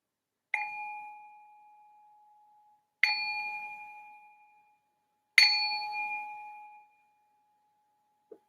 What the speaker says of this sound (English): I will ring this bell to signal the start of our meditation.